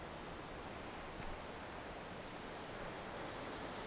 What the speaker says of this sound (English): you can really tell what size this is, how big the waterfall is